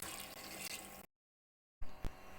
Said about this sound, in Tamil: அதுக்கேற்ற மாதிரி நான் தண்ணி சேர்த்துக்கிறேன்